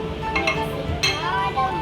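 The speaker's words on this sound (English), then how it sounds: "Mix all the vegetable and calamari." Squid and vegetables including enoki mushrooms being stirred in a soup pot, producing repeated close clinks and scrapes of a utensil against the pot under steady kitchen background noise.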